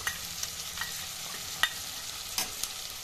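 Chilli chicken frying in a pan with chilli sauce is stirred, giving a steady soft sizzle broken by a few light scraping clicks of the spoon, close and fairly quiet.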